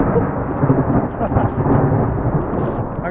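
Thunder rumbles loudly and continuously during a lightning storm, a deep sustained roll over heavy rain, with no talking.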